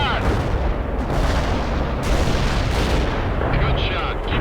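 Artillery barrage in the World in Conflict game, dense rumbling explosions rolling one into another without pause, heavy and loud throughout.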